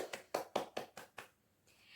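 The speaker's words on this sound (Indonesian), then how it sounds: "Mari kita berikan tepuk tangan" A small classroom group claps briefly for the second presenting group, about six sharp claps in a quick, uneven burst that fades out within a second and a half, fairly quiet.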